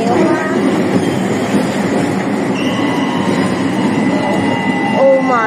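A Hong Kong ding ding tram rumbles along between Victoria Park and North Point, with a loud steady running roar and high wheel squeals, and faint voices of passengers in the background.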